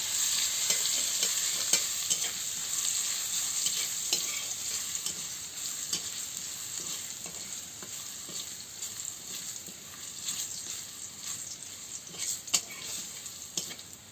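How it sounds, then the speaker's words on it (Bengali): Chili and garlic paste frying in hot oil sizzles steadily and crisply while it is stirred and scraped in the pan, with no talking. "তেল গরম হয়ে গেছে, লঙ্কাটা দিয়ে দিচ্ছি, রসুনের বাটা দিয়ে দিচ্ছি, দিয়ে ভালো করে ভেজে নিচ্ছি।"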